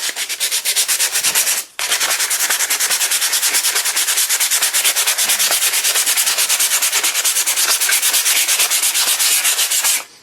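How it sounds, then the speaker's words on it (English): Heavy 100-grit sandpaper scrubbing an old Tootsietoy metal toy in steady rapid back-and-forth strokes, loud and close, with one brief pause near the start. "take some heavier sandpaper, some 100, and just get that get that real heavy stuff off with this."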